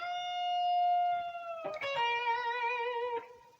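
An electric blues guitar lick: a sustained note, then string bends from the fourth up to the fifth, finished with a vibrato-laden sting. It sounds clear and up close, with no talking.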